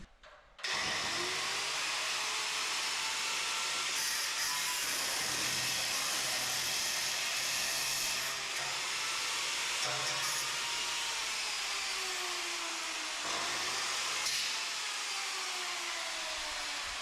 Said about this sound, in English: They're like sanding discs for the grinder. So these are ceramic flat discs.